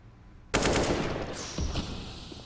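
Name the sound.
AK rifle gunfire in CS:GO video game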